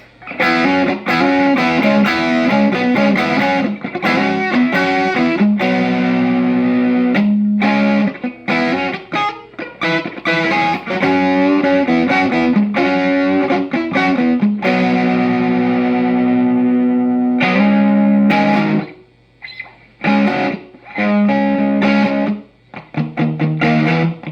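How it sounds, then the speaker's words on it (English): Electric guitar through a distortion pedal with the knobs set to 3 o'clock, playing heavy chords and riffs loudly for over twenty seconds, with brief pauses and ringing stops near the end. "Distortion knobs are cranked to 3 o'clock."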